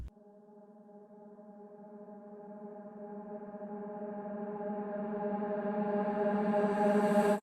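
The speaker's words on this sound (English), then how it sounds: "we have this reverse vocal reverb" A reverse vocal reverb swell rises steadily from faint to loud, a smeared sustained tone that builds and brightens before cutting off abruptly at the end, alone with no talking.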